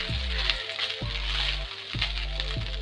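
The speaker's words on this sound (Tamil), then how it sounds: "இந்த வெங்காயம் நல்லா ப்ரௌனாக வதங்கியிருக்கோமா" Onions frying in a pan until browned, a steady broadband sizzle running throughout with low repeating thumps underneath, no talking.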